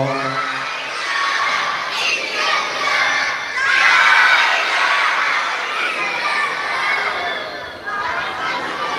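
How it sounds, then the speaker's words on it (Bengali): A large crowd at an Islamic sermon gathering chants takbir and la ilaha illallah loudly in unison, a dense roar of many voices sustained without pause. "নারে তাকবীর, নারে তাকবীর, জোরে জোরে লা ইলাহা ইল্লাল্লাহ"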